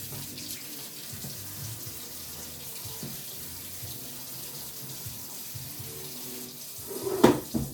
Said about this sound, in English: Right now I'm just watering it really good.